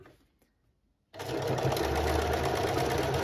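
A sewing machine runs steadily while stitching a Roman blind, starting abruptly after a moment of near silence and then holding a loud, continuous mechanical whir close to the ear.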